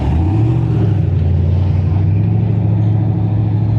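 A Firebird drag car accelerates down the racetrack at a street-car drag event. A loud, steady engine roar rises in pitch and then holds, heard from a moderate distance with no talk over it.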